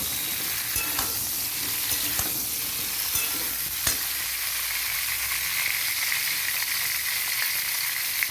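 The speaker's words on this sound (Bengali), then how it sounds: "আর ঝিঙেগুলো আমি ভেজে নেবো চলুন দিয়ে দিই তেলে এই যে দিয়ে দিচ্ছি সাবধানে দেবেন কিন্তু আপনারা ঠিক আছে এই দেখুন এরপর নাড়াচাড়া করে নেব" Ridge gourd fries in hot oil, giving a steady bright sizzle, while a spatula scrapes and stirs in several distinct clicks and knocks, close by and with no talking.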